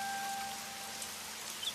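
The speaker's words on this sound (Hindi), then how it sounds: "शाम होते होते बारिश कुछ कम हो जाती है" Steady rain falling in a rural farmland setting, a continuous even hiss of drops with a faint tonal hum underneath and a couple of brief light drips near the end, no voices.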